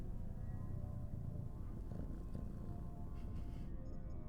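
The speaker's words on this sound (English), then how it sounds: "I think you can probably hear the purring." A cat named Pebble purrs close to the microphone in a soft, continuous low rumble, faint and steady, with a few small rustles near the end.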